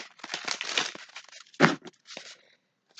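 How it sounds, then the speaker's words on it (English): Tarot cards being given a quick shuffle during a money-focused reading, a burst of papery riffling and crinkling strokes, then one sharper close snap and a couple of softer rustles before it falls quiet. "Just want to give a quick shuffle"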